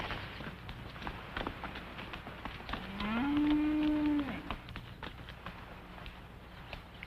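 A single long, loud moo from cattle being driven out of a corral in a Western setting, rising out of a low background rumble of movement and hoofbeats.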